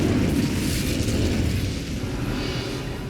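Incendio fire spell in the game Hogwarts Legacy, a loud sustained roaring blast of flame with a deep rumbling body that holds steady for about three seconds.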